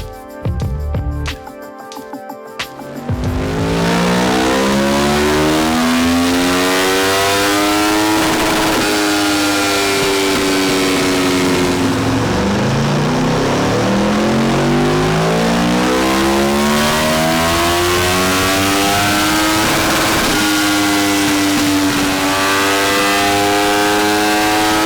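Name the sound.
Aprilia Tuono V4 motorcycle revving on a dyno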